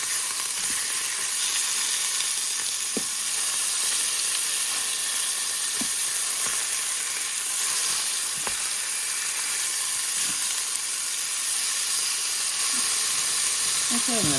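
Pork chops sear in a pan with a constant loud hiss and sizzle, broken by a few sharp clicks and taps, with a voice talking faintly in the background.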